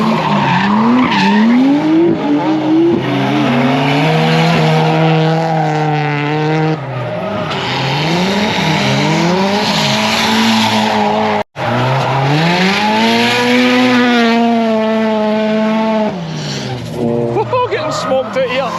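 High-powered JDM drift cars swing through a corner at a Scottish drift event, engines roaring and revving in rising sweeps with tires squealing, very loud and close from behind the barrier, a voice speaking underneath.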